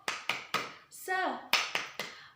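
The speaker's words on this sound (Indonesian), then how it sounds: "Seperti ini, tepuk semangat." A rhythmic 'tepuk semangat' clapping chant at a Sunday school service: crisp sets of three and then three more claps, close and clear, with a short sung call in the middle.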